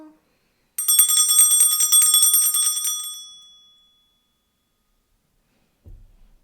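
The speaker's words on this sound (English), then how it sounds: "I'll start with clearing the energy with my bell." A small handheld bell rung to clear energy before a tarot reading, one bright shimmering ring sustained for about two seconds and fading away, followed by a soft low thump near the end.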